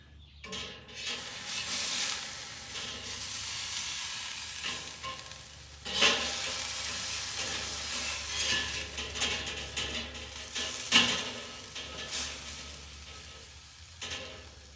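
Food sizzling on a BBQ grill, a steady hissing fry with occasional scraping stirs and a couple of sharp metallic clinks from grilling utensils, close and continuous, no talk.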